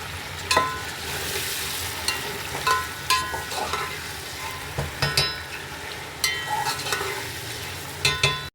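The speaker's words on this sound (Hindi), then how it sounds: "एक मिनट रुक जाओ, बस ये चिकन डाल दें इसमें।" Chicken pieces sizzle and fry in a hot pan while being stirred, with repeated scraping clinks of the spoon against the pan over a continuous crackling hiss, close and fairly loud.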